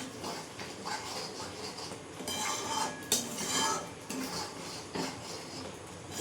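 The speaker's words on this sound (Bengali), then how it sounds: "এবার আবার এটাকে নাড়বো।" Paneer masala stirred in a pan: continuous scraping and clinking of a utensil against metal with a dense sizzle underneath, close and fairly loud, no talking.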